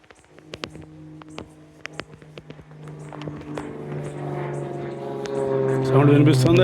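A helicopter flies over a lakeside villa colony with a walking path, its low droning rotor hum swelling steadily louder while footsteps crunch close by and a voice may be heard faintly.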